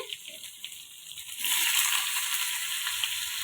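Nigella seeds, dried chilli and tomato hit hot oil. A soft crackle at first, then a loud, steady hiss and sizzle that carries on to the end.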